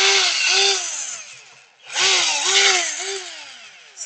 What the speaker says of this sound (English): cordless working on with main power, with corded power supply, with laptop.